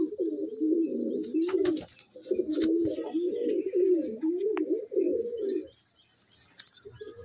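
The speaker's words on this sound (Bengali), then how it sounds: "খুব ছটফট করছে পায়রাটা" A restless young pigeon coos in repeated low throaty phrases at close range, with brief pauses between bursts and faint fluttering and rustling, the cooing fading out near the end.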